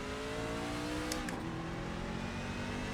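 Sim-racing truck engine held flat out on a fixed-setup iRacing truck lap at Las Vegas, a steady droning roar with layered harmonics running continuously, a brief whooshing sweep midway.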